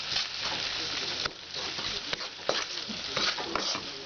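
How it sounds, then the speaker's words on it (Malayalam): Vinegar bubbling and boiling in a pan for Kerala lime pickle with added salt, a steady sizzling crackle with a few sharper pops and stirring clinks, close and moderately loud. "വിനെഗർ ചേർത്ത് കഴിഞ്ഞിട്ട് അത് തിളച്ച് വരണുണ്ട്."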